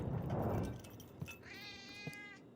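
A cat meows in a rising, drawn-out cry near the end, after a short burst of noise and a couple of soft knocks, with no talking over it.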